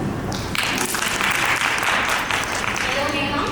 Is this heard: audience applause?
yes